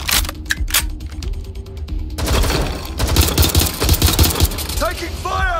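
Gunfire in Watch Dogs Legion: dense bursts of automatic shots and a rapid rattling fusillade, loud and close, over a low rumbling background, with a voice talking partway through.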